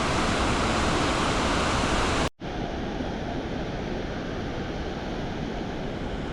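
Mountain torrent in the Cirque de Gavarnie, fed by waterfall water that resurges from underground: a loud, dense, unbroken roar of rushing water, cut by a momentary break before the same heavy rush resumes.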